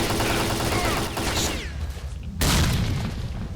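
A grenade blast in the game Stalker: Call of Pripyat hits as a sudden loud boom partway through, set amid a dense bed of gunfire and battle noise.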